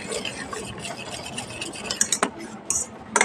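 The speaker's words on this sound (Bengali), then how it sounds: "যত এইভাবে ঘাঁটানো হবে তত বেসনটা রেডি হবে" Gram flour batter with baking soda being stirred by hand in a bowl, a steady wet scraping and clinking that rises into sharper utensil taps near the end.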